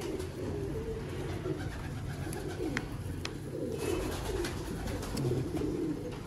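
Rooftop pigeons coo softly and repeatedly over a constant rushing background, with low throaty calls rising and falling throughout and no talking.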